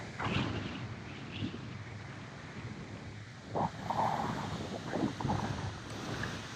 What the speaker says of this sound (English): I'm pretty sure we got some wind noise.